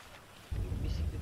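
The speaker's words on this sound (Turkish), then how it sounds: "Yağmur yağıyor şu an. Bayağı güzel yapmışlar yağmuru." Heavy rain and rumbling thunder in the Grand Theft Auto V video game swell in suddenly and hold as a steady, loud, close wash.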